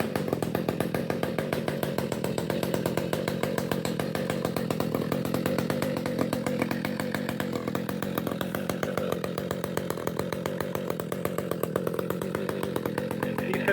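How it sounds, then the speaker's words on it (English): Husqvarna 572XP professional chainsaw idling loudly and close, each piston stroke a distinct rapid pulse in an even, steady rhythm that continues alone throughout. "you can literally hear every stroke of the piston, and it bounces off the back wall of the house"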